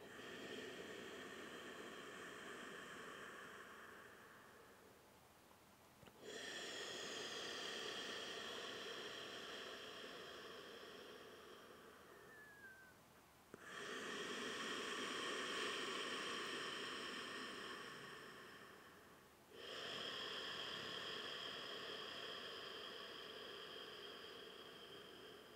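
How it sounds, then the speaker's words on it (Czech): Ujjayi yoga breathing drawn through the throat with the mouth closed, a long hissing, sea-like rush in four slow breaths, each swelling and fading with brief pauses between, close and alone. "jen vnímáme zvuk, který vychází z oblasti hrtanu, zvuk, který připomíná šumění moře"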